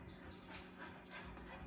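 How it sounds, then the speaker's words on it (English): Indoor dog whimpering with short yips and barks, fairly close and continuous throughout, with a cat also worked up nearby and no talking. "That's a dog and the cat going mental."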